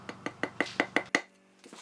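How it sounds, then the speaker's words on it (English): Hammer blows tapping a new engine seal into place, driven through a standard screwdriver during timing chain and water pump work on a 2003 Toyota Camry: seven sharp, evenly spaced metallic taps, close and ringing, then a brief pause and softer knocks. "And we can tap our new one in place."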